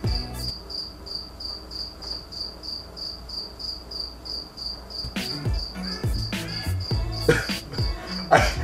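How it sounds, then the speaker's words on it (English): A cricket chirps in a garage in steady, evenly spaced pulses, clear and close, before music with deep thuds and other sounds rises over it in the second half. "I have a damn cricket in my garage."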